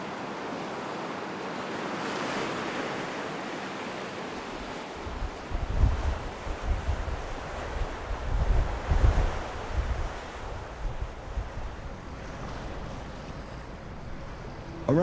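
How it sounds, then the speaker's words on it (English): Atlantic waves lash red sandstone cliffs on the Magdalen Islands, a steady low surf wash with gusting wind buffeting the microphone and heavier rolling surges toward the middle. "admire these cliffs of red sandstone lashed by the waves of the Atlantic"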